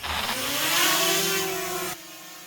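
A drone used for aerial filming of a metal shed roof spins up for takeoff, its rising buzzing whine swelling for about two seconds before dropping away abruptly.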